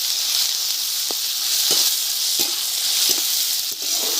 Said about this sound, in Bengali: তেল গরম হয়ে গেছে, শুকনো লঙ্কা ফোড়ন দিলাম, কালো জিরে ফোড়নে দিয়ে দিলাম,